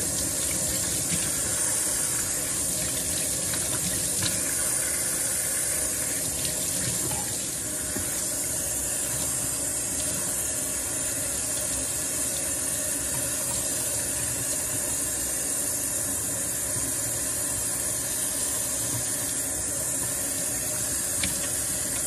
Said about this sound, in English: So now I'm just going to rinse.